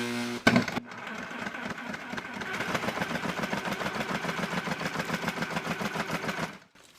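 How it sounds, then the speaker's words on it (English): Sawzall reciprocating saw driving a homemade worm sifter with 1/4 and 1/8 inch screens, a rapid rhythmic mechanical chugging and rattling that runs steadily for several seconds after a brief clunk, then cuts off. "got it hooked up to my Sawzall."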